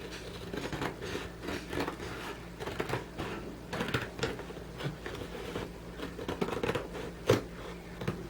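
Scissors cutting out a cardboard shape for a model house, heard as a run of close, irregular snips and crisp paper-like rustles with no one talking.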